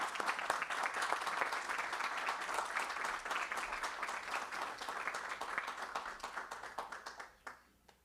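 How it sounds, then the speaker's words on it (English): A board meeting audience gives a sustained round of clapping, many hands at once, steady for several seconds before thinning out and dying away into a few last claps. "please give a big round of applause for Mr."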